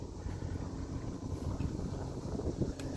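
Sailboat motoring on Chesapeake Bay toward Annapolis, a steady low engine drone mixed with wind buffeting the microphone, continuous and fairly close.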